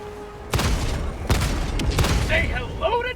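SAM site gunfire and explosions in the Helldivers 2 video game against automaton enemies, sharp loud blasts and booming bursts of fire in quick succession, with a voice speaking briefly near the end.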